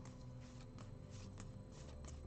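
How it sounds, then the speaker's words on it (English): A deck of Pokemon trading cards is shuffled by hand, producing a steady run of quick papery riffles and flicks, close and fairly loud, with no talk over it. "Shuffle my deck."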